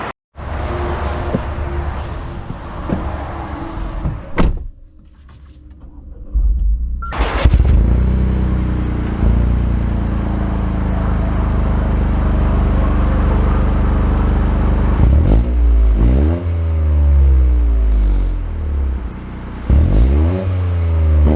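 A 2024 Toyota GR Corolla, base model without limited-slip differentials, pulls away with a loud engine note that settles into a steady close rumble, then rises through several sharp revving sweeps in quick succession near the end.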